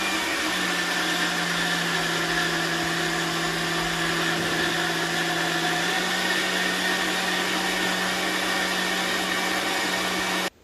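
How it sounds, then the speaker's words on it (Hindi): A Bosch TrueMixx Pro mixer grinder grinds batter with little water, giving a loud, steady motor whine with a constant hum that runs unbroken for about ten seconds before cutting off abruptly. "तो मिक्सर मैंने यहाँ पे स्टार्ट कर दिया है।"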